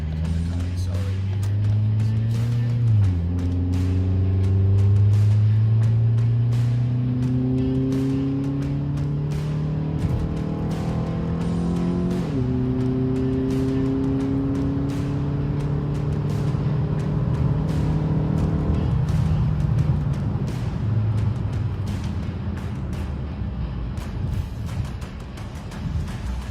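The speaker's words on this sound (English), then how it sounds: "So I'm going to kind of accelerate here." A 2012 Ford Focus SEL accelerates along an open road, engine tone rising in pitch through a series of upshifts into higher RPMs, heard from inside the cabin with steady road and wind noise.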